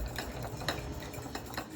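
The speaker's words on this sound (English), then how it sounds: "I'm just going to take my fork, break my yolk, and just whisk that all together" A fork whisks egg yolk with hot sauce in a bowl, making rapid, continuous tapping and scraping strokes with irregular clicks, close and moderately loud.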